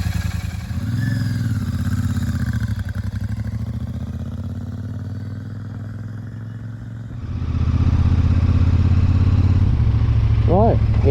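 A Royal Enfield Super Meteor 650 motorcycle engine runs steadily, then swells louder as the bike pulls away, a continuous close engine drone with brief clatter near the end.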